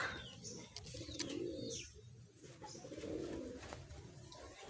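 Pigeons coo softly in low, rolling phrases at a loft, with faint higher chirps and bird calls in the background and no talking.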